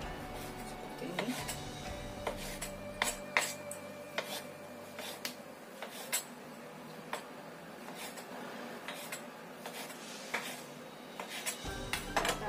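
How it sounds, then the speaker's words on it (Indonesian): A knife slicing sausage thinly on a cutting board, heard as irregular sharp taps and clicks spread through the clip, fairly close, over a steady background hum. "Kemudian kita iris tipis sosisnya."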